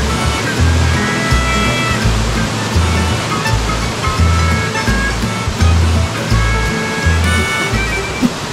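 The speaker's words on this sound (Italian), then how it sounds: "qua, ragazzi, è dove il fiume scompare dentro questa cascata" A powerful river plunging into a waterfall in the Canadian Rockies near Jasper and Banff, a loud, steady roar of rushing water close by with no talking.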